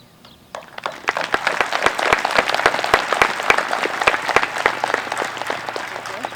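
High school graduation audience applauding the class of 2020, a dense crowd of clapping that swells in after a quiet start and carries on steadily, with sharp individual claps standing out near the microphone.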